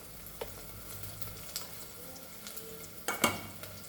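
Tomatoes fry for a Goan-style vegetable pulao, a faint, steady sizzle under scattered soft utensil clicks and a couple of sharper scrapes near the end, with no voices.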